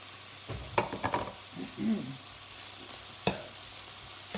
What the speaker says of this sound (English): Now I'm just going to take my rice and I'm going to put it into the center